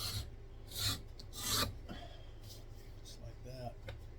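An edge beveler is drawn along the edge of buffalo leather in two short scraping passes, a close dry rasp each lasting about half a second, with quiet room tone and some faint talk afterward.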